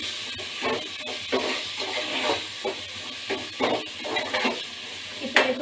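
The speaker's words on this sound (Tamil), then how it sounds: "அந்த தக்காளி போட்டு நல்லா வதக்கிக்கலாம்" Tomatoes sauté in a pan for chicken biryani, a steady sizzle broken by rhythmic scraping strokes of stirring, fairly close and moderately loud.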